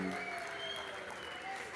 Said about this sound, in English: And a round of applause again from Wendy.